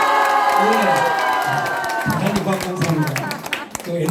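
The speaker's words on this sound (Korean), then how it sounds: "다시 한번 응원의 박수!" A press-conference crowd bursts into applause and cheering, dense clapping mixed with shouts, while someone speaks over it near the start.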